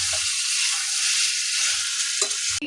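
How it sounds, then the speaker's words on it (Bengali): Chicken braises in a pan with a steady, close hiss of frying, then a brief clatter of stirring near the end. "এদিকে তো চিকেন কষানো চলছে এখন।"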